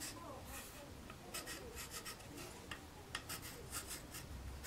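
A marker scratches an arrow onto a piece of wood in a workshop while a handstand trainer is being built: quiet, dry rubbing strokes in short bursts against a faint room hiss.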